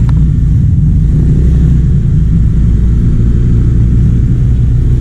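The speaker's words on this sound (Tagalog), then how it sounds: "First ride natin sa Adventure 180cc from FKM." New 2024 FKM Venture ADV 180cc motorcycle on a test ride, its engine a loud, close, steady low rumble with wind buffeting, holding an even pace throughout.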